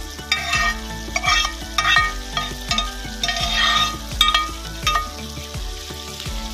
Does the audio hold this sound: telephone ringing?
no